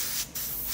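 A spray can or airbrush paints a Bandai HG 1/144 Gundam Age plastic model, producing a close, steady hiss. The spray drops off briefly for a moment, then starts again at full strength, with no voices.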